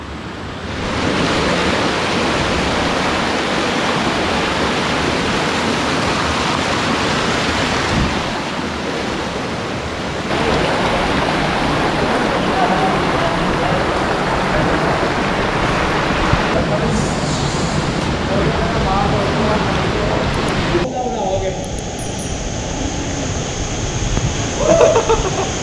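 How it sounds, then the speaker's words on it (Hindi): Noori Waterfall near Haripur, Pakistan, falls into a hole. It makes a loud, continuous roar of falling water, steady throughout with small shifts in level, while people talk over it. "वहाँ उस होल के अंदर वाटरफॉल है।"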